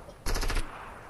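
Automatic gunfire from a video game rattles out in one quick burst of about five rapid shots lasting roughly a third of a second, loud and close.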